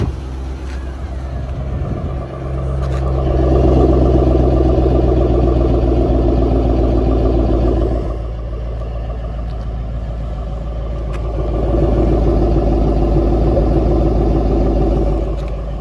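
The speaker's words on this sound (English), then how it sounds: "listen to those dual exhausts while the car is idling" Dual exhausts of a 2005 Ford Mustang GT idling, a deep steady burble heard from the rear that swells louder twice, around four and twelve seconds, then settles back, with no talking.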